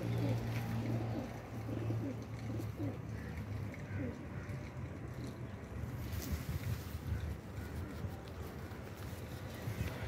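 A pair of blue pigeons coos softly in a loft amid a steady wind-like background, while someone talks over the birds.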